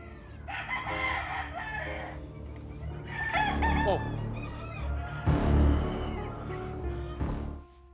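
Roosters crow and cluck at a high-stakes cockfight, the calls overlapping amid a busy, noisy crowd with voices talking throughout.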